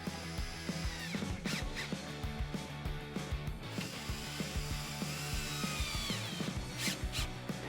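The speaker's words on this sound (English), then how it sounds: "with our 8mm socket, we're going to go ahead and just tighten that down" An 8mm socket ratchets tightening tailgate bolts on a Jeep Wrangler JK, quick repeated clicking strokes close up, steady and moderately quiet with no talking.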